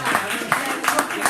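An audience at a 1 Million Cups pitch event in Santa Clarita claps for a guest speaker, a dense patter of hands at close range with voices mixed in.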